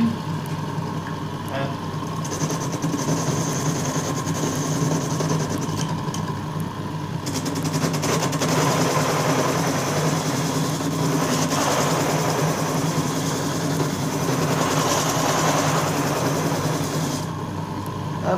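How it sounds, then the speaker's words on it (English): A drill press machines a piece of blank wood with a steady, close mechanical drone and a grinding cutting texture that continues throughout, with a voice speaking briefly over it. "Going to get another piece of blank wood, we'll turn on the machine"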